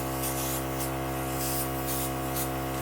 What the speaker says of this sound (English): Just spray and move around.